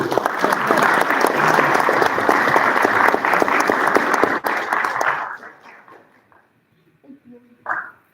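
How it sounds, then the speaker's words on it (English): Loud, sustained applause from an audience at a school board meeting honoring a student of the month, fading out after about five seconds into a quiet room with a few faint voices and murmurs. "Another round of applause for Kevin."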